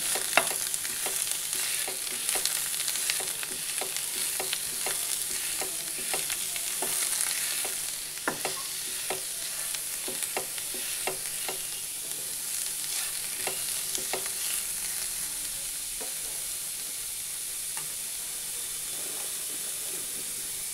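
Squeezed grated bottle gourd frying in oil with a bay leaf in a pan for semai, giving a constant close hiss and sizzle with irregular stirring clicks and scrapes, with no talk.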